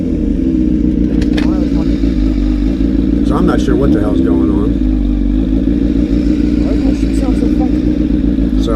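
A Honda CBR1000RR motorcycle with a custom over-tail exhaust idles roughly close by with a low, uneven chugging rumble while someone talks over it.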